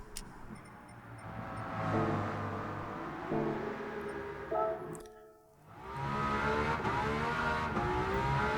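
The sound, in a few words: V12 car with sports exhaust revving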